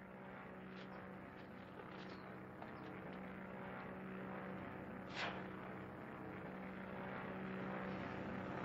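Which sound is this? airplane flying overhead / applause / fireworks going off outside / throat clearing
airplane flying overhead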